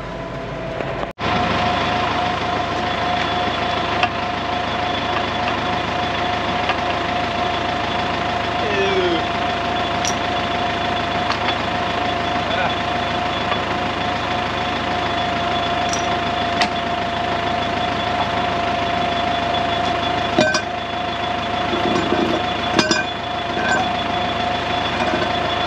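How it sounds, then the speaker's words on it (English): A farm tractor engine runs steadily at idle, a continuous close rumble with a constant tonal hum, and someone talks over it at times. "I'm going to put the ridger on this tractor now"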